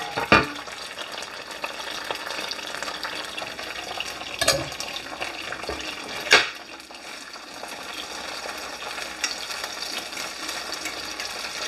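Garlic and peppers fry in a pan for Italian peppers and eggs, a steady close sizzle and crackle with a few sharp clatters of a utensil scraping the pan.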